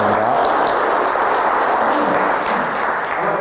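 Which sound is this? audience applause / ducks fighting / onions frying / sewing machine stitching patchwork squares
audience applause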